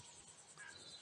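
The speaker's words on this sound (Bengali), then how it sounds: "শুধু ঝিঝির ডাক" Crickets chirp at night in a faint, continuous shrill trill, with no other sounds.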